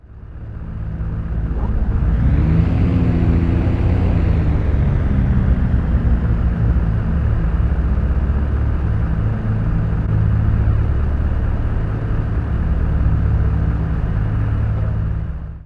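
Right engine of a Beechcraft Baron B58 in a flight simulator cranks and catches, swelling into a loud, steady propeller drone that rises in pitch and then settles into a continuous rumble, alone without voices.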